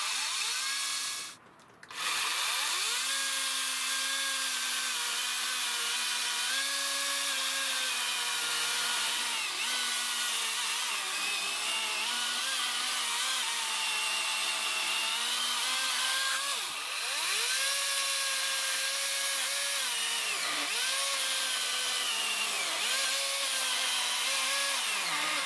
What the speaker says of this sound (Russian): и пила уже работает.